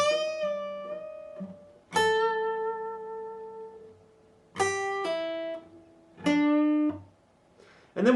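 Slow guitar G-string bends and pull-offs ring as separate plucked notes with clear, bright overtones, heard in four bursts that sustain and fade between phrases, close and alone with no talk.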